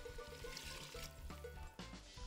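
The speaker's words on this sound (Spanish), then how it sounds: "Y lo otro restante se lo vamos a echar de agua." Water pours from a cup into a pot of rice being cooked with beer and sausages, a soft continuous splashing stream near the microphone that briefly changes tone toward the end.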